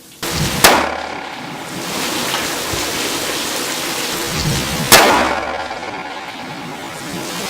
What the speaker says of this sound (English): It's coming down pretty good out here, so I guess the rain does not affect the bullet flight